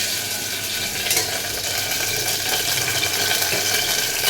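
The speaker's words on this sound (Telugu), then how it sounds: "ఇదిగోండి ఇప్పుడు తాలింపు వేస్తున్నాను పప్పుకి." Tempering spices sizzle steadily in hot oil for dal, a dense, even hiss holding close and loud throughout with no talk.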